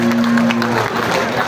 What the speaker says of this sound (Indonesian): Saya nak dengar satu tepukan daripada anda semua untuk diri sendiri.